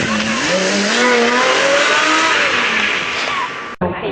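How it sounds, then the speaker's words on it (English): A white muscle car's engine revs loudly and close, its pitch climbing through rising sweeps with a hint of tire squeal before cutting off abruptly near the end. "I have a muscle car."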